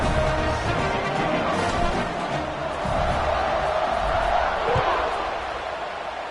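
A college football stadium crowd roars steadily at kickoff in a Virginia Tech game, a dense sustained cheer with whoops rising and falling under a commentator's voice.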